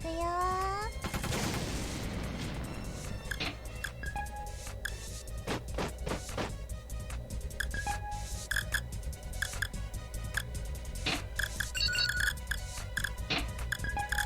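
Tank units open fire in a turn-based video game battle against an artillery unit, with a rapid series of sharp gunfire bursts and electronic blips running steadily throughout alongside game effects.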